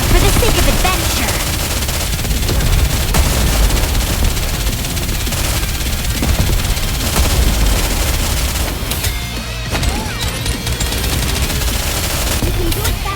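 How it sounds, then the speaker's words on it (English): Missile barrage fire in the video game Elysion Towers: a dense, loud, nonstop stream of rapid shots and booms that holds steady from start to end, layered over busy game sound. "Missile container online. Full barrage, fire!"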